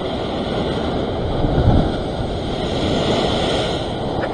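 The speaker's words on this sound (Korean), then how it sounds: "지금 상황에서 워낙 파도가 세니까." Strong sea waves crash against a rocky shore near Sydney while people fish from the rocks, making a loud, continuous rushing surf with a swell near the middle and wind buffeting the microphone.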